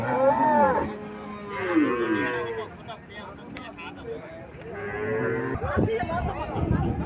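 Cattle moo repeatedly at a village cattle market in Cumilla, Bangladesh, among local desi cows and Sahiwal calves; several long, loud lowing calls come close by over steady market background.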